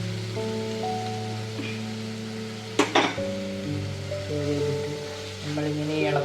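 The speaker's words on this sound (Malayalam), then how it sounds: "നമ്മളിങ്ങനെ ഇളക്കുന്നു." Cabbage is stirred in a hot pan for a vegetable soup, a steady sizzle with a couple of sharp scraping clinks, under background music.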